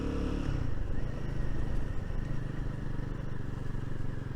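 A Royal Enfield Guerrilla 450 motorcycle pulls hard on the throttle along a rough lane with loose gravel, its engine growling loud and close amid wind rush, with no speech.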